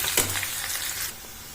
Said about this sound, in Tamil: உளுத்தம்பருப்பு வதங்கின பிறகு வெங்காயம் போட்டு வதக்கிக்கலாம்.